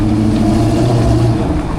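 Dodge SRT8 Challenger idling and revving nearby on a Prague street, a loud, steady low engine rumble that holds through the short moment with slight swells.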